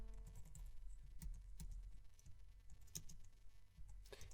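Rapid typing on a computer keyboard while coding HTML for a WordPress theme sidebar, producing close, irregular clicks and key taps in uneven bursts with no talking.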